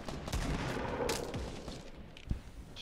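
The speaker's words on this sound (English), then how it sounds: "Stop shooting me." Rapid gunfire from the battle royale game Fortnite, a few muffled bursts and single shots over a dense, noisy background, with no voices heard.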